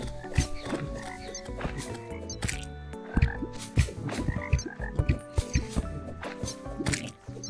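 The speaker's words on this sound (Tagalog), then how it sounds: "Ay, palaka pala yun." Frogs croak in a Terraria game, short repeated croaks scattered across a busy layer of game music and effects, fairly close and loud throughout.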